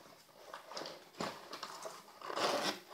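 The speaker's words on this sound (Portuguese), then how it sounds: "Olha o zíper dela, que lindo. Até o zíper é lindo." A backpack zipper being worked back and forth, giving several short rasping bursts in quick succession, the loudest near the end, close up with no talking.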